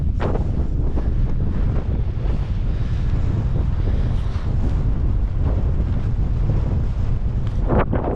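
Strong wind batters the microphone on a Lake District fell walk near Rosthwaite Fell, a loud continuous roaring rumble with gusty surges and no let-up throughout.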